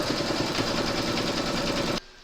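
An embroidery machine stitching an in-the-hoop round on patriotic bunting, a loud, steady, fast mechanical whirring and needle chatter up close that stops abruptly near the end.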